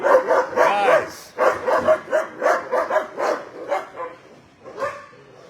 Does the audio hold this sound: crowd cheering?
no